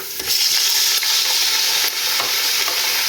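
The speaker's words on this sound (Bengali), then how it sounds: "চিকেনগুলো দিয়ে আমি চার পাঁচ মিনিট ভেজে নেব" Small chicken pieces fry with lightly browned onions in a pan, giving a loud, steady, close sizzle with a few stirring scrapes and no talking.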